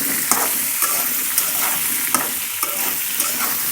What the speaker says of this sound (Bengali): ভালোভাবে ভেজে নেব আলুগুলো।